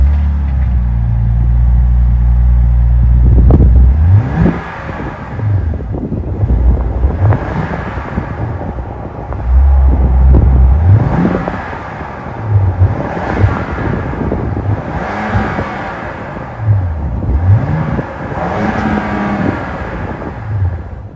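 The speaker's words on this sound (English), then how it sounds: "that was the sound of the all-new 3-liter Hurricane twin-turbo V6 sold by Jeep for the 2023 Wagoneer" The 3.0-liter Hurricane twin-turbo V6 of a 2023 Jeep Wagoneer idles, then is revved several times in a row, each loud rise falling back, with heavy wind buffeting the microphone outdoors.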